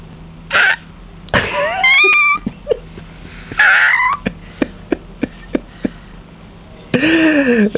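A young child imitates a cat, producing a few short wavering meows, and adults speak and prompt between the sounds, with sharp clicks and taps scattered throughout.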